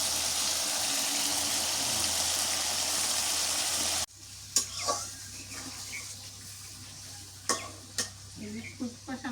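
Chicken and spices fry in oil, first as a loud, dense hiss, then quieter with a spatula scraping and knocking against the pan in scattered strokes; no speech.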